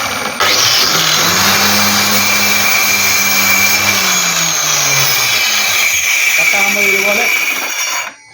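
A power saw cuts a wooden plank for jointing, running as a loud, steady whine for several seconds, then dropping in pitch near the end of the cut before stopping abruptly.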